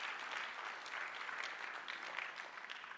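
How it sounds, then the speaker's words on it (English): Steady applause from a keynote audience at an entrepreneurship event, dense and even with many hands clapping together, moderately distant and sustained throughout with no voices standing out. "Can we all give a big round of applause to Mr."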